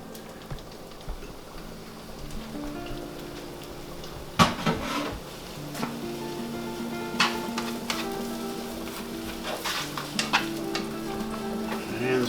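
Finely chopped celery and onion sauté in a hot pan, a steady close sizzle broken by occasional sharp clinks and scrapes of a utensil stirring against the pan.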